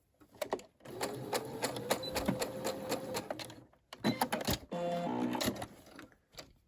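A Brother SE600 sewing machine stitches fabric for a scrunchie in short bursts of rapid mechanical whirring with brief pauses and clicks between runs, close up.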